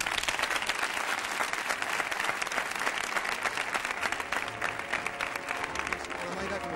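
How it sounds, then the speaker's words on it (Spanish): A studio audience at a 1983 Spanish television game show gives a magician a loud, dense burst of applause, sustained clapping that fills the room for several seconds with no pause. "Demos la bienvenida con un fuerte aplauso al Barón Carloy."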